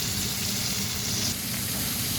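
T-bone steak frying in butter in a pan, a constant close sizzle and crackle with no speech.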